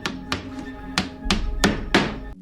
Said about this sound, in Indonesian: Maka dari itu, Graham dan Meryl bergegas menutup pintu dan semua jendela.